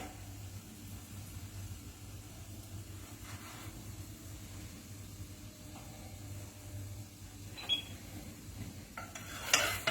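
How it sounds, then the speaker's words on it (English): French toast sandwich being shifted around in a frying pan, faint soft sizzle and occasional light scrapes over a low steady hum, with a sharper clink near the end. "I'm just moving the toast around in the pan so the crusts will get a small bit of colour and browning"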